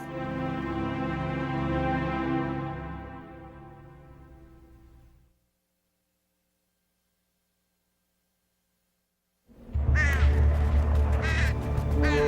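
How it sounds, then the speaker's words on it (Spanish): Crows cawing as birds of ill omen: a loud, drawn-out harsh call slowly fades away, then after a few seconds of silence a fresh burst of raucous cawing breaks in loudly. "Pájaros de mal agüero se posaron sobre el Capitolio."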